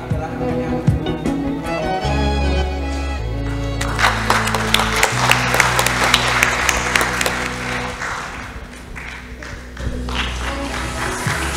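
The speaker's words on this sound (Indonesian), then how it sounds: "kita berikan tepuk tangan yang meriah" Audience at an executive lecture event clapping in a hall, a dense, sustained round of applause that swells in the middle and tapers off, with music or a voice audible beneath at the start.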